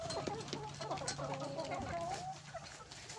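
Layer hens on a farm cluck and squawk close by in a steady stream, with low background murmurs underneath.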